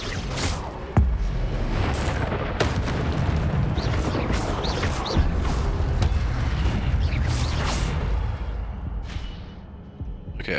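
Spell combat in Hogwarts Legacy, with booming fire-spell blasts and bursts over dense game noise and music, several sharp hits standing out loud and close.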